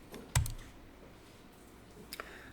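Computer mouse clicks in a quiet office: a sharp single click, then a quick double-click near the end, crisp and close against a near-silent background.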